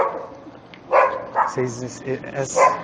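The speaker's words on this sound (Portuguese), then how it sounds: "Muito bacana esses cachorros." Several dogs bark and yip in short, bright bursts close by, overlapping with someone talking in Portuguese throughout.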